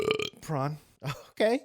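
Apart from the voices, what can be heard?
burp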